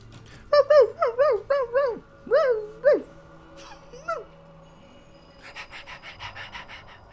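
A human voice imitates a happy puppy with a quick run of high, bouncy yips and whimpers, then softer breathy panting, close and clear with short gaps between bursts.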